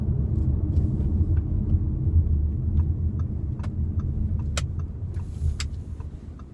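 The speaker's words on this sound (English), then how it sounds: "Car moves off very smoothly in comfort." An Audi A6 2.0 TDI Ultra's engine rumbles steadily as the car pulls away and cruises smoothly, with a low continuous drone and a few faint clicks inside the cabin.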